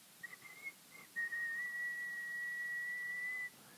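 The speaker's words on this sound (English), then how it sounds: "So we achieve that by whistling." A person whistles a few short notes, then holds one long, steady, clear tone for about two seconds before stopping.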